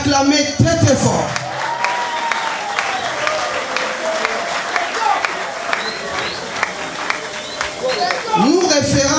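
A large crowd at a political party ceremony bursts into loud, sustained applause with cheering and whoops, claps crackling densely throughout and rising again near the end.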